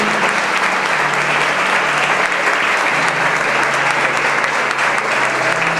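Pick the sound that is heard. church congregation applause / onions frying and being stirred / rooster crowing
church congregation applause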